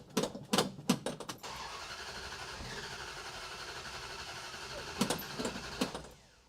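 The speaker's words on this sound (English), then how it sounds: "I don't want to start it up for too long because I don't want to get the motor hot" Dodge Charger engine cranks with a few sharp bursts, then runs in a steady, moderately loud idle for several seconds before more brief revving or sputtering pulses near the end.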